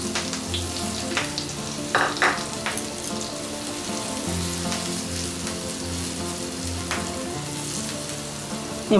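Green and ripe chillies and potatoes sizzle in oil in a pan while sago khichuri is being cooked, a steady close frying crackle with occasional stirring clatter and no voices.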